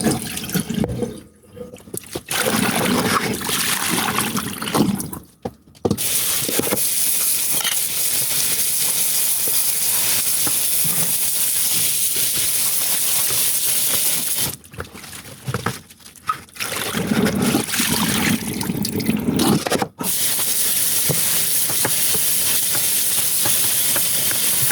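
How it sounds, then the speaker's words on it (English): Nasturtium and sorrel leaves rinsed under a running tap, a loud continuous hiss of flowing water with brief breaks where the stream is interrupted, close and uninterrupted by speech. "I'm gonna thoroughly rinse them off."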